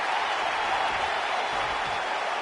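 An arena crowd in a PS4 wrestling video game keeps up a steady, even roar of cheering and applause, with no clear peaks.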